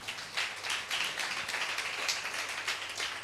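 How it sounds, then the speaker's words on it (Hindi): A church congregation claps loudly for Jesus during a sermon, the dense, steady clapping filling the room at an even level throughout, with no voices over it. "क्यों ना यीशु के लिए एक जोरदार ताली बजाएं"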